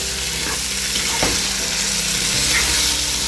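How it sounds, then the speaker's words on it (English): Tomatoes are stirred into a sizzling chicken biryani mixture in a pan, a loud, constant frying hiss with a couple of brief scraping stirs and no talking. "Give it a good stir"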